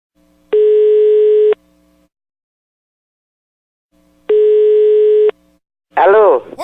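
Telephone dial tone from a public payphone sounding in two steady one-second bursts with a pause between, followed by a brief burst of a voice at the end.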